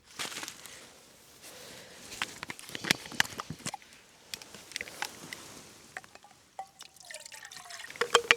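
Water is poured into a cooking pot at a winter wild camp in the Lake District, giving irregular splashes and drips at close range, fairly quiet, with a brief rising tone near the end and no talking.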